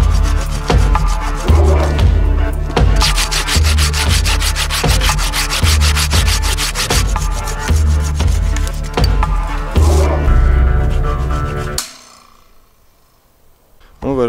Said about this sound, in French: je viens de casser ma lame de scie